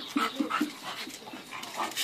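Bulldogs panting in quick, close breaths with a few short whimpering yelps near the start, continuing softly throughout.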